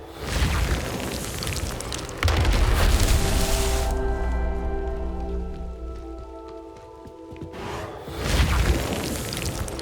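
Confringo explosion spell in Hogwarts Legacy, two heavy low booming blasts, one early and one near the end, with a quieter stretch of ringing, rain-like game ambience between them.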